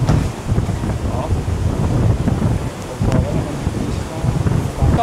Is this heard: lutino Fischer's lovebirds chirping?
no